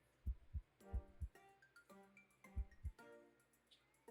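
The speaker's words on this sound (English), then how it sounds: "the one sound effect is a heartbeat" A heartbeat in the video game Cupid's Kiss thumps in deep paired beats, three lub-dub pairs at a steady slow pace, with soft tonal game music ringing between them.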